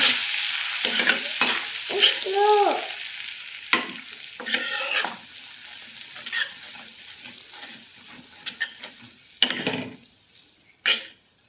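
Ginger garlic paste with cumin and chilli frying in a pan for paneer bhurji, loud hissing sizzle with repeated spatula scrapes and stirring bursts that fade quieter toward the end, no speech.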